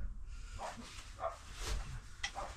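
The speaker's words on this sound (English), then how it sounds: "All the dogs are barking outside." Several dogs bark outdoors, somewhat distant and faint, in a scattered series of short barks over low background noise.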